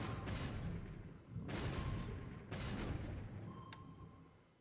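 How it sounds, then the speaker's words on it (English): Naval gunfire at destroyers in a World War II strategy game, three heavy booming blasts about a second apart, each rumbling and fading, followed by a faint brief tick. "And we're firing at destroyers again."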